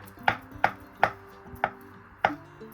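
Knife chopping potatoes into cubes on a cutting board for a potato chicken salad, five crisp, evenly spaced thuds close up in a quiet kitchen with no talking.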